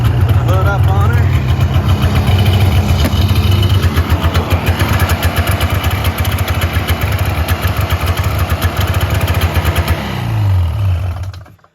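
A 2002 Polaris Super Sport 550 fan-cooled snowmobile engine runs loud and close with a fast, rough two-stroke putter, holding steady before tapering off at the end.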